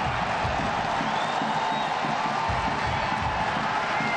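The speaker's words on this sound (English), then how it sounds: "Big round of applause for the big Aussie after he nearly tallied the first goal of the match" Stadium crowd at a USL soccer match between FC Cincinnati and Ottawa Fury FC, applauding steadily after a long-range left-footed shot from 30 yards strikes the woodwork; a broad, continuous roar of clapping and murmur.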